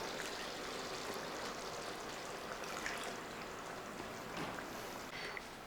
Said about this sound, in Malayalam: നല്ല കുറുകിയ 1-ാം പാലൂടെ അങ്ങോട്ട് ഒഴിച്ച് കൊടുക്കാം